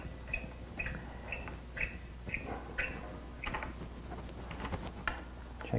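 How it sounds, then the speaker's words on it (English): Clutch cover bolts are tightened with an Allen wrench, producing faint, evenly spaced metallic clicks and light ticks close by, repeating steadily over a low background hum. "As tight as you can make them with an Allen wrench of this size."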